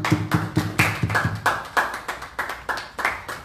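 A church congregation claps in quick, steady rhythm, roughly three claps a second, as sharp close slaps that run on without a break and with no talking.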